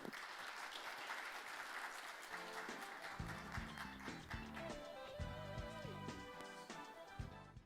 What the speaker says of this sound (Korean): 큰 박수로 맞으시기 바랍니다.